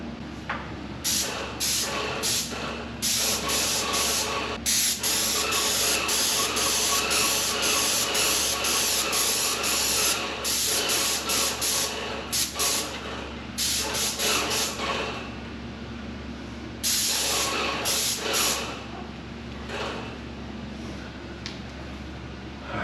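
Steady, close hiss of a spray paint can laying a coat over an unprimed surface, running almost continuously with several short pauses between bursts.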